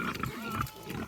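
Pigs grunt and snuffle while eating food scraps and vegetables, giving short, close, irregular grunts.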